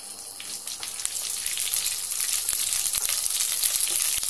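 Mustard seeds and curry leaves crackle and sizzle in hot oil for puri bhaji, a bright rain-like fizz that grows louder and denser, with small pops over it and no talk.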